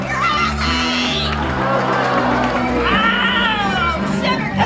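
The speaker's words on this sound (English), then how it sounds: "let's go ahead and give a big round of applause for the rest of our guests" A live comedy show audience at a holiday special cheers and whoops loudly in a crowded room, with children's shouts and excited voices mixing into a continuous roar over several seconds.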